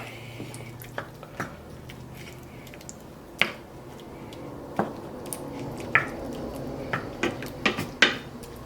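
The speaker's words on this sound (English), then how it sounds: "And give everything a good stir around." Spoon scraping and clinking against a pan as taco meat simmering with water and annatto powder is stirred, giving scattered wet squelches and sharp metallic taps, close and moderately loud with no talking.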